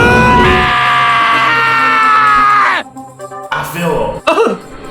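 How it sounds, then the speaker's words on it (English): Screaming in the game Danganronpa, a single loud, long sustained scream that cuts off after about three seconds, followed by softer shuffling sounds. "Hey, I heard screaming!"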